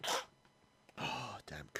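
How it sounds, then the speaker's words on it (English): A single sharp sneeze from a person with a cold, loud and close, followed by a brief vocal outburst. "And we're going to sneeze."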